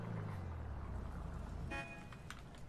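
A low, steady video game car exhaust rumble drones, then eases off as a short horn toot sounds nearby.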